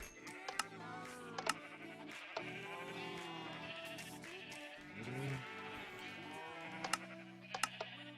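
Sheep bleating in Minecraft, several short blocky bleats scattered over a steady game backdrop with music and clicking, bleats near and moderately loud, with keyboard or mouse clicks between them.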